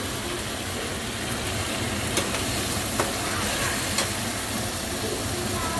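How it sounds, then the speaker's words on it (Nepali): Mushrooms sizzle and fry steadily in a pan, with occasional scrapes and clicks of stirring rising above the constant crackle. "एकछिन हामी यसलाई सब चलाएर पकाउँछौँ है"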